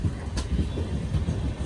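Mangaluru Central Express sleeper train rolling into Kanhangad station, a steady low rumble of wheels and carriages with faint clattering, continuous and fairly close throughout.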